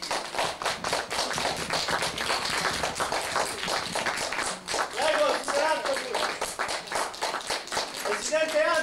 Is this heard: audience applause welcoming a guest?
yes